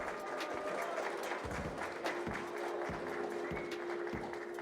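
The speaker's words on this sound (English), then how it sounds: "let's give a round of applause for our second place team" Applause from an esports event crowd for the second-place team at a DreamHack Mechabellum 2v2 showcase, fairly faint and distant, with a steady wash of clapping and occasional low thumps.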